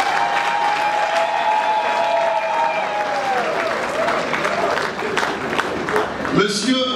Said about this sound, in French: J'aimerais qu'on applaudisse très fort pour lui